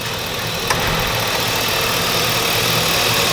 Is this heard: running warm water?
no